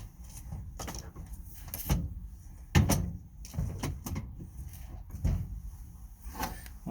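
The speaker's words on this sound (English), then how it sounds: "push the drawer in a little bit" A drawer in a Gange tool box being repaired is pushed in and pulled out, giving a series of sliding rumbles and sharp knocks and clunks at close range, with no talking.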